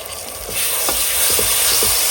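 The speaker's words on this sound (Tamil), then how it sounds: "இப்போ இந்த பச்சை கலர் பேஸ்ட்டை போட்டு நல்லா வதக்கிடலாம்" Green ginger-garlic-coriander-mint paste sizzles with onions in a pan, a steady close hiss rising after the first half second, with a few soft stirring scrapes and no talk.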